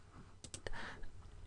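Several quick keystrokes on a computer keyboard, a short cluster of crisp clicks close up and quiet, with faint room hiss around them.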